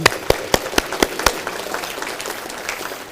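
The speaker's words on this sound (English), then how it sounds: "Let's give him a round of applause" Applause for Jim Beavers at a State of the City event, a handful of sharp, distinct nearby claps at first, then fading into softer scattered clapping.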